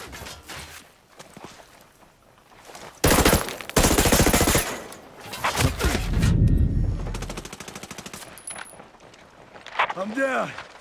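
Hostile automatic gunfire in the video game Ghost Recon Breakpoint, with loud rapid bursts, some nearer and harsher and others more distant, mixed with game effects and voices.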